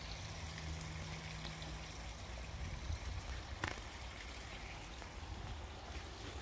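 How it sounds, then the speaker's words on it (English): A garden waterfall pours in a steady, soft rushing wash of water that stays even throughout, faint and heard from a short distance, with no voices. "you can hear the lovely sound of the waterfall under there"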